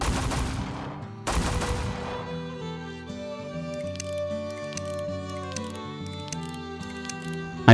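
A Spitfire gun in the Roblox game Wild West fires two sharp, loud bursts close up, followed by ringing tonal game sounds and scattered faint clicks.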